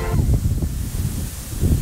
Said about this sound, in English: it is very windy right now